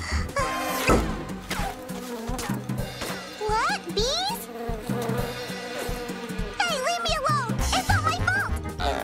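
Cartoon bees buzz in wavering, rising and falling drones, with excited character voices talking and shouting around them.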